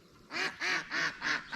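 Ducks quack in a backyard, a rapid rhythmic run of five loud, nasal calls close by, without talking.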